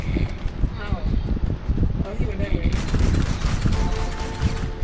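Rapid bursts of automatic gunfire fill a Grand Theft Auto V Online shootout, with dense, loud volleys running continuously over wind-like rushing.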